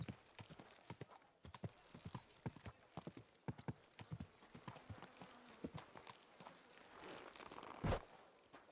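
Horse hooves clip-clop at a steady walking pace in the medieval open-world game Kingdom Come Deliverance 2, with clear close hoofbeats, a brief snort or whinny near the end, and faint background game ambience.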